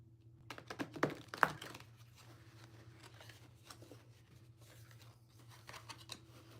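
Tarot cards are shuffled in a cluster of quick soft riffling snaps early on, then lighter scattered card rustles follow quietly, with no one talking.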